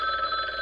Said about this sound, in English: Shabana, get the phone, no?